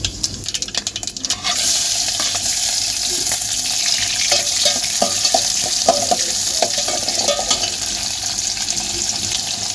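Mustard seeds, cumin and onion frying in hot oil in a home kitchen, a steady loud sizzle with scattered small pops and crackles throughout, and a brief clatter at the start.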